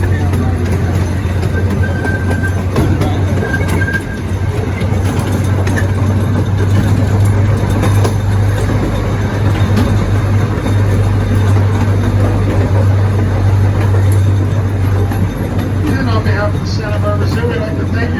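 A zoo train ride at Santa Barbara Zoo rumbles steadily throughout, its engine producing a constant low drone with mechanical clatter and wind, while a voice talks over it.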